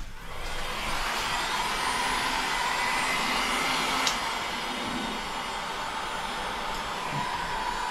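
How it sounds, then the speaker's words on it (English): A heat gun blows steadily while shrinking heat-shrink tubing on a cable during a van's infotainment and reverse camera install, a constant close airy roar holding at even loudness from start to finish. "we need to heat shrink the cable."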